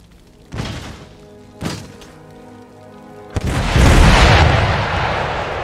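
Field artillery cannons fire in Empire Total War during a siege on a walled city: two heavy booming shots at separate moments, then a louder, sustained rumbling blast of impacts and explosions.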